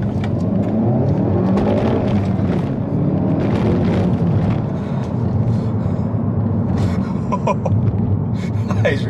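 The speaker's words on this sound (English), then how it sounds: "this noise is all you need to tell you that this is a thoroughly serious bit of kit" Hyundai i30 N hot hatch engine and exhaust revving loudly, a continuous deep roar with throttle swells and crackling pops toward the end.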